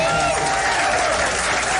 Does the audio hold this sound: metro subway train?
no